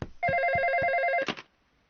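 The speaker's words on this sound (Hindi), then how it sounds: "फोन बज रहा है।" Electronic telephone ringer trilling in a loud warbling burst of about one second with a steady rhythmic pulse, followed by a brief clatter, then near silence; no talking.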